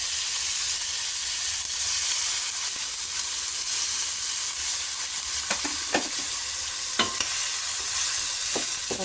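Chop suey with liver sizzling loudly in a pan after a splash of water, a steady close hiss of steam and frying with a few brief clinks and scrapes of stirring toward the end.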